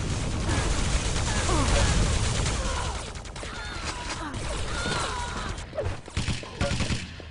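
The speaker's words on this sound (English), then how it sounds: "Getting an easy machine gun kill there, and Dimitri gets caught out by that railer" Machine gun fire in a Quake-style arena shooter match during an ESL tournament, dense rattling bursts with crashing impacts filling the first seconds, then thinning into scattered shots and effects, with no talk heard.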